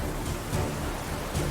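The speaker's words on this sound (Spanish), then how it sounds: "Las nubes ennegrecidas lanzan lluvia y granizo sobre la tripulación" Rain mixed with hail lashes a boat's crew in a storm at sea, a steady dense hiss of broadband noise with brief gusting swells, continuous and fairly loud with no voices.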